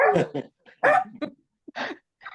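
A dog barks several times in short, sharp yips with brief whimpering tones between them, close and fairly loud, the bursts spaced irregularly with silent gaps.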